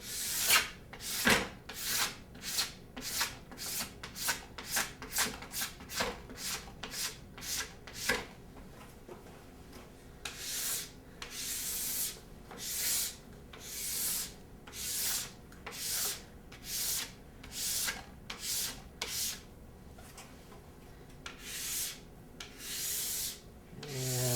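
A plastic scraper drawn in short, even strokes from tip to tail over a ski base, lifting off wax with a rapid run of rasping scrapes, then slower, longer scraping passes, close and clear with no talk.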